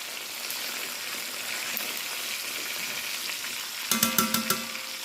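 A beef roast browns in a hot pan, making a steady close sizzle and hiss, with a burst of sharper crackling and spattering near the end as it is moved.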